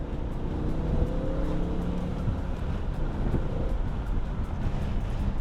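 A stock 2006 BMW E60 M5 with its V10 engine accelerates, a dense, steady rumble heard from inside the car with wind noise mixed in and no talking.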